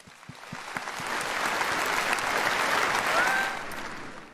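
Audience applause at the 16th Budapest New Year's Concert, a dense wash of clapping that starts with a few scattered claps, swells and holds steady, then fades toward the end.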